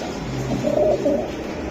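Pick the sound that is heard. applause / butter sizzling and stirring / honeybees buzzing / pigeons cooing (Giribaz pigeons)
pigeons cooing (Giribaz pigeons)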